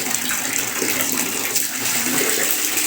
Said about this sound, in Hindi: पानी आता है भाई इस वॉशरूम में